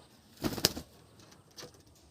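An Andhra pigeon in a loft gives a brief flutter of wings, followed by a fainter second rustle, quiet and close.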